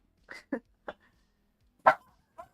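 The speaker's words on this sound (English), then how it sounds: "Why you bark?" A dog gives a handful of short, sharp barks and yips, spaced irregularly with silent gaps, one louder bark standing out near the middle; fairly close and alone, no talk over them.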